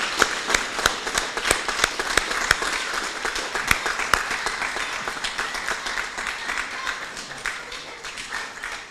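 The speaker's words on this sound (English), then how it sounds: "show them your appreciation with a round of applause" Graduates at an evening college diploma ceremony applaud their supporters, a sustained crowd of clapping with distinct sharp claps close by, gradually thinning and softening toward the end.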